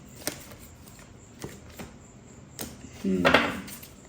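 Tarot cards shuffled for a card reading: a few soft isolated taps and slaps, then a brief riffling burst, close and fairly quiet in a calm room.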